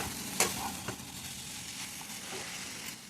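Cabbage frying in a pan with chilli powder and curry leaves, a steady soft sizzle with a few scraping stirs of a spoon against the pan, close and with no talking.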